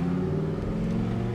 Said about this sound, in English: let's give it a fat downshift